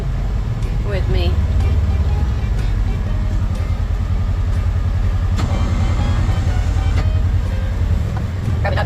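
A snow plow truck drives along after a big storm, its low engine rumble constant beneath wind buffeting and occasional clunks and rattles from the cab.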